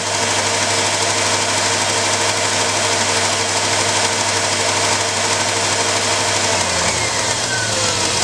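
A steady, loud engine of an LDP (large-diameter-hose) pump operation drones and rumbles continuously, with a slight drop in pitch near the end as the revs ease down when pumping starts.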